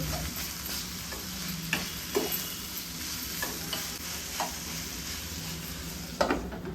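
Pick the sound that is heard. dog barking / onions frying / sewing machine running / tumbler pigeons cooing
onions frying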